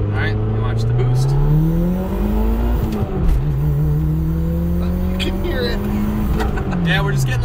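A high-mileage Mitsubishi Eclipse GSX turbo engine at wide open throttle, a loud steady drone with rising and falling pitch sweeps throughout, heard from inside the car with people talking over it.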